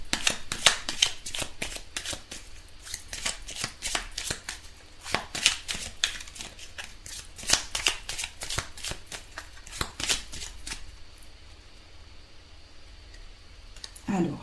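Tarot cards are shuffled close by in a rapid run of crisp riffling clicks and flicks that taper off toward the end, while someone talks quietly over it.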